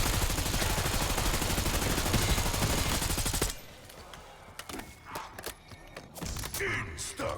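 Rapid, loud automatic fire from the Ames weapon in a zombies video game, a dense run of shots lasting a few seconds, then scattered in-game sounds and a short burst of voice.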